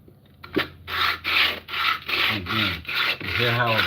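A tool blade is pushed back and forth across a wet 300-grit sharpening stone in a steady series of rough, abrasive strokes, about seven close rasping passes with short pauses between them, with no speech.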